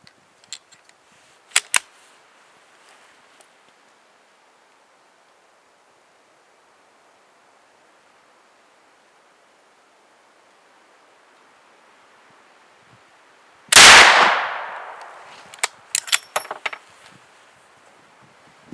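.410 ammunition fired from a MK 1Z musket at a range: one loud, sharp shot with a long ringing tail, bracketed by faint clicks and handling noises and otherwise quiet stretches.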